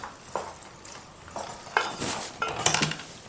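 A spoon scrapes and clatters in a pan as turmeric is stirred into a chicken and broad bean curry, a few quick metallic strokes over a soft background sizzle.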